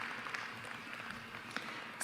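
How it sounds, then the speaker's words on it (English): A crowd claps steadily at a gathering, a soft, dense wash of applause heard from a distance, quiet and continuous with no talking. "People all clapping."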